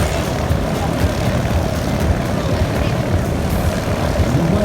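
A propeller airplane drones steadily overhead at an air show, a continuous loud engine rumble across the whole stretch, with a voice talking faintly beneath it.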